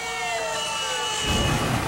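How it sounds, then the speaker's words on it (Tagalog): Fire truck sirens sound in Bataan during a fire prevention month event, a wavering wail with rising tones, swelling louder in the last half-second amid rumbling traffic. "nagpatunog ng mga sirena ang mga truck ng bumbero sa Bataan"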